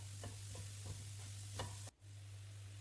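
Onion, green chilli and curry leaves are stirred in a pan, a few quiet scraping strokes over a soft, faint sizzle and a low steady hum.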